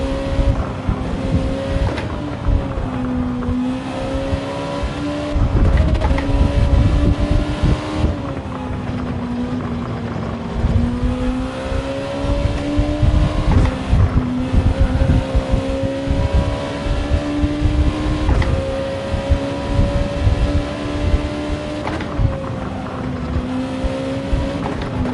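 Honda NSX race car engine in a racing video game at Suzuka, a steady droning tone that rises and falls with throttle through corners, loud and continuous with wind-like rush, no talk.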